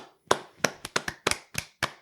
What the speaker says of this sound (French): Applaudissez tout le monde